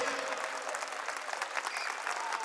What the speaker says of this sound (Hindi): जोरदार तालियां सभी बच्चों के लिए।